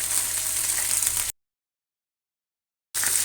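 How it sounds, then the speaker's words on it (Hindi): Fish fillet sizzling in hot oil in a pan, a steady bright crackle that drops to complete silence midway, then resumes just as loud. "पलट के इधर भी 1-2 मिनट फ्राई करूँगी"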